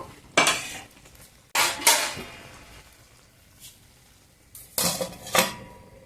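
Roasted ragi flour is stirred in a pan for ragi upma, with a few bursts of a metal spoon scraping and clinking against the pan, separated by quiet pauses and close to the listener.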